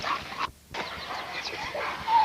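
A young bully-breed dog in a kennel yard barks and whines in short, yipping bursts over rough outdoor noise, close and fairly loud.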